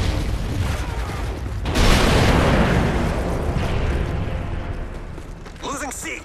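An airstrike explosion in Modern Warfare 3 erupts with a loud, sudden boom that rolls into a long, dense rumble of blasts, close and heavy, with a voice briefly audible near the end.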